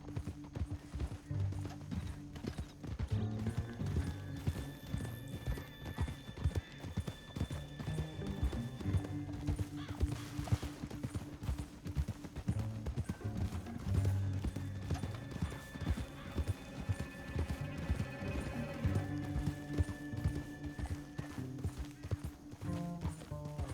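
Steady clip-clop of horse hooves at a running pace in the video game Red Dead Redemption 2 on PS5, with occasional whinnies over a busy mix of ambient sound and music.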